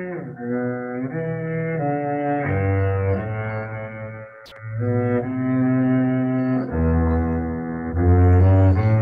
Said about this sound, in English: So that's something like the sound of a cello.